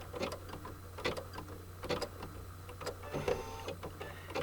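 Embroidery machine tacking down leaf fabric onto felt in a hoop for an appliqué flower coaster, running alone with a steady rapid mechanical stitching rhythm and regular louder clacks roughly every second over a constant low motor hum.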